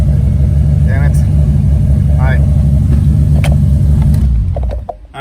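A car with a clutch-operated manual transmission idles steadily after a transmission repair, a loud close engine drone throughout with a person speaking over it briefly before the engine noise drops away.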